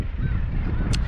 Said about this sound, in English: when the gannets at the very tops of the cliff here